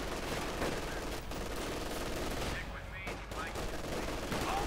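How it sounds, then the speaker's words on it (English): Heavy machine gun fire crackles in repeated bursts during a Company of Heroes 2 match, mixed into a dense wash of battle noise and other gunfire, with a commentator talking over it. "the might of that heavy machine gun"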